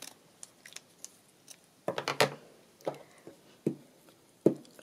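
Scissors snip paper in half for a paper bag journal: a quiet series of short, crisp cuts, some in quick clusters, with small pauses between them.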